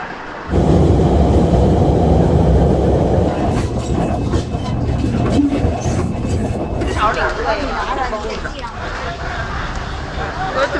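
A railway station in Beijing carries a loud, sustained rumble of a train with rail clatter, layered with a busy babble of voices and station bustle that grows denser toward the end.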